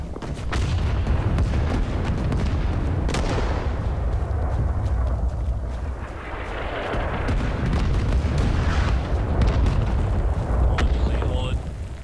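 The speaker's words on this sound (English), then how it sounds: "I get blasted by artillery." Artillery fire in the video game Talvisota Winter War: heavy booms and rumbling blasts roll through continuously at fairly loud level, with sharp impacts layered over dense noise and a voice talking.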